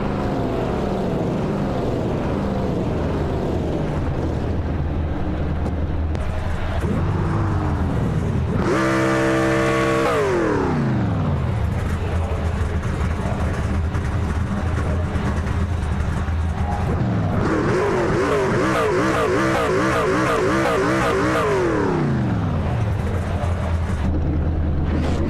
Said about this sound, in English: Drivers getting a little excited as you heard the revving of the engines.